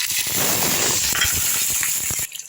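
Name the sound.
green chilies sizzling as they fry in sesame oil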